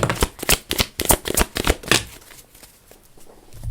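Tarot cards are handled at a reading, giving a quick run of crisp, close card flicks and slaps, a burst of rapid riffling that trails off into quiet.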